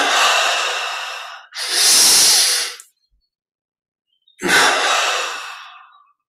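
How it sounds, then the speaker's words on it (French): Deep breathing during a guided relaxation and meditation session: a long inhale, a second quick inhale, then a long exhale after a short silence. The breaths are close and loud, with no talking. "On prend maintenant une double inspire."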